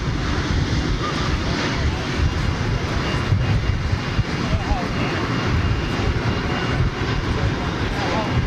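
Jet airliner engines roar steadily across an airport apron, a dense continuous broadband rumble with wind buffeting the microphone throughout.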